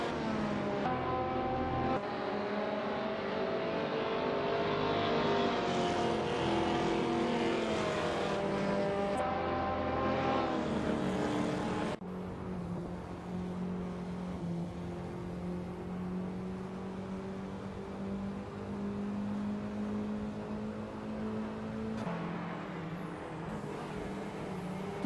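Sports cars race around a track in a video game, their engines droning in a steady, sustained whine that shifts pitch partway through as the field moves on, loud and continuous throughout, with no speech.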